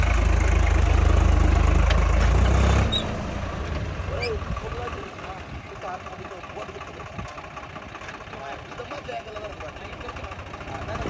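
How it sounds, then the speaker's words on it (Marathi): A loud, low tractor engine rumble dominates the first few seconds, then a steadier, quieter engine drone continues under people talking. "ट्रॅक्टर कसा टायर फिरवतोय"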